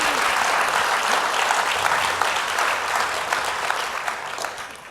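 Sustained audience applause welcoming author Joan Biskupic at a book talk, a dense, even wash of clapping from a crowd that holds steady and tapers slightly at the end.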